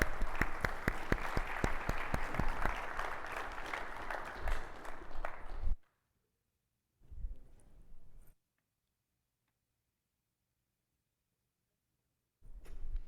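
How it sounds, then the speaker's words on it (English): Audience applause welcomes two speakers onto a conference stage, a thick burst of clapping that cuts off abruptly, followed by near silence with a short faint stir and then a return of sound. "Please, a round of applause."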